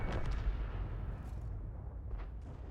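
A tank gun in a tank video game fires a round at a Leopard, a deep booming blast with a rumbling low-end tail that stays loud throughout, followed by faint distant pops.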